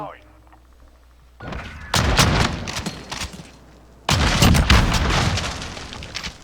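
Gunfire in Call of Duty: Modern Warfare 2019, two loud sustained bursts of rapid automatic shots, each lasting a couple of seconds, separated by a quieter gap.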